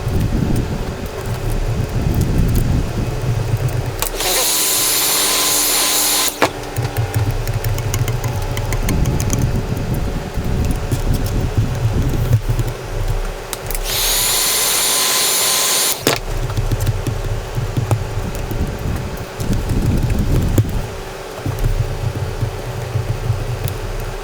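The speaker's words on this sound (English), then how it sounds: "So we're going to use the heat gun again and just heat it up a little bit." A heat gun warms old adhesive during a radio touchscreen install in a Subaru WRX, giving a steady, loud blowing roar with two brief stretches of harsher, brighter rushing air.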